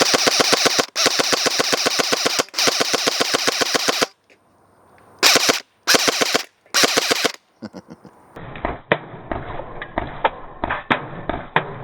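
An Umarex AER 16 electric steel BB rifle fires in loud, rapid full-auto bursts, then pauses and fires several shorter bursts. The closing seconds carry quicker, irregular clatter and clicks.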